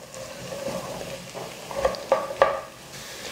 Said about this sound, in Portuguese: Agora nós vamos acrescentar o tomate.